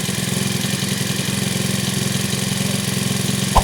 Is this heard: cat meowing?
no